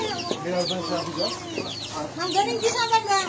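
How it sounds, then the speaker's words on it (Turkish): A fighting rooster in Indonesia clucks repeatedly up close in short, throaty bursts, with other fowl chattering faintly around it. "Büyük bir horoz var."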